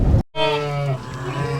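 Katahdin Dorper cross ewes and lambs in a livestock trailer, one loud, close, drawn-out bleat following a short burst of noise, with no talking.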